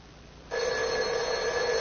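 A telephone rings loud and close, its steady electronic ring starting about half a second in and continuing unbroken to the end, with no voices over it.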